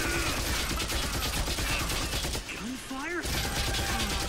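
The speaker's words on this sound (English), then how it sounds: "Gunfire?" Rapid gunfire bursts from an anime episode of Death Note, loud and continuous with a dense crackling texture, broken near the end by a brief drop and a short rising tonal sound.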